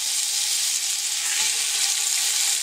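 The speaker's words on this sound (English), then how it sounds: "And you hear the sizzle because it's hot" Loud, steady sizzling of chicken pieces frying in hot oil for gumbo, a continuous bright crackling hiss that fills the whole stretch.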